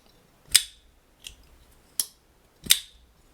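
A custom Peter Rassenti small paysan pocketknife with a mokume blade clicks open under a thumb flick, giving three sharp, crisp snaps with a fainter tick between them, close and alone.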